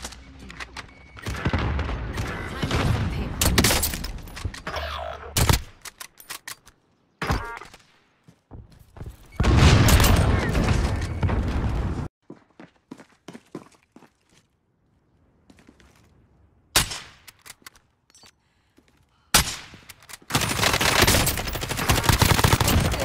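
Bursts of video game gunfire break out in several loud clusters, automatic volleys mixed with single shots, separated by quiet gaps and a few thuds.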